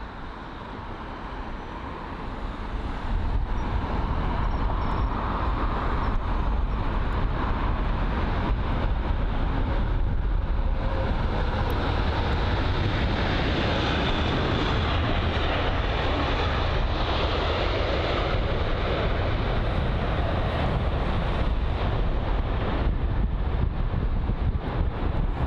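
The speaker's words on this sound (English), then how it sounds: "up next, the Virgin Atlantic A350-1000, one of many we've seen today" Virgin Atlantic Airbus A350-1000 airliner arriving at London Heathrow, its loud jet engine roar rising after the first few seconds and holding steady and broad, with some wind buffeting on the microphone.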